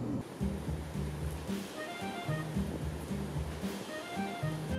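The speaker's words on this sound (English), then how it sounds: "The waves are huge. I love watching the waves here." Large ocean waves surge and roll in a steady rhythm on a Hawaiian shoreline, a continuous wash of surf with no voices present.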